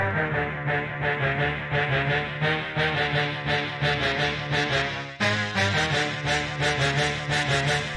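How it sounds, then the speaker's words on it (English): A sustained brass horn section sample from a song plays bold, held chords over a steady beat, loud and full, with a brief cut partway through. "let's begin with the horn sound."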